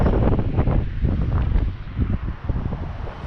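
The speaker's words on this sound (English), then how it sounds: "whilst this wind settles down" Strong outdoor wind gusts buffet the microphone in a loud continuous low roar that swells and dips, with no talk over it.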